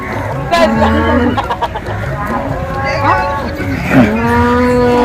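A dairy cow in its second lactation moos loudly and close at a cattle market, with chickens clucking and crowing and brief voices nearby.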